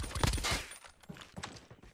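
Rapid bursts of gunfire from the mobile shooter Call of Duty Mobile, using a Type 63 rifle, crack out in a quick cluster at moderate loudness, then taper into scattered faint shots, with no talk.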